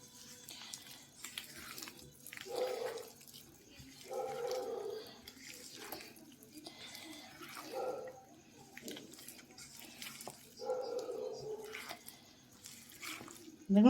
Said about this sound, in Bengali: এবার আমি হাত দিয়ে একটু ভালো করে মেখে নেব।